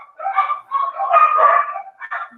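Dogs barking loudly and close by, a few quick rough barks and yips in overlapping bursts with short pauses between.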